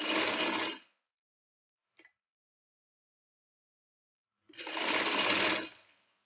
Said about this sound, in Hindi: चलो अब हम करते हैं अपनी सिलाई शुरू